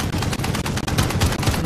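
Dense bursts of rapid automatic gunfire from a Call of Duty: Modern Warfare match, loud and close with rattling volleys overlapping, no talking.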